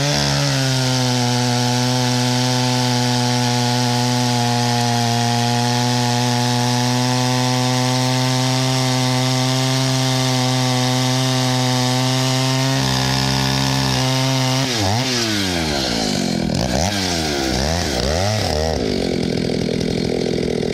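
A Jonsereds 80 chainsaw with a 33-inch bar and .375 chain cuts through dry white oak, its engine droning loud and steady under load, then the pitch wavers and shifts sharply near the end as the cut finishes.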